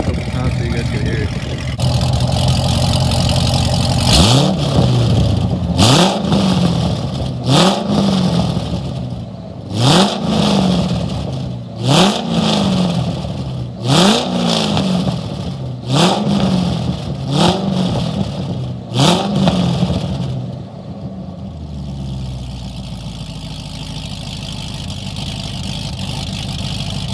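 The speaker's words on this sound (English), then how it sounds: "I'll rev it a couple times so you guys can hear it." Engine of a stock base model Chevrolet Corvette C6 revved repeatedly from idle, about a dozen loud sharp throttle blips that each rise and fall back to a deep rumbling idle, close by with someone speaking over it.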